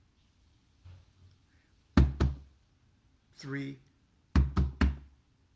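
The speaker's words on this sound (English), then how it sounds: "That's the knock to get Mercury's attention." Ritual knocks sound in an occult invocation to Mercury: a pair of sharp, close raps, then a group of three after a pause, with a voice speaking briefly between them.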